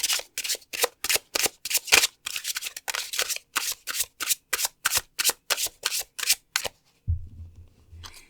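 A Tarot of the Golden Wheel deck is shuffled by hand in quick, crisp riffles, a steady run of about twenty close, sharp bursts followed by a brief low rumble at the end.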